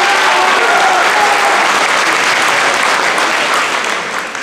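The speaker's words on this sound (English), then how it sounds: "Give yourselves a round of applause, please." Loud applause from a high school variety show audience, a dense, sustained crowd of clapping that fills the hall for several seconds and starts to taper off at the end.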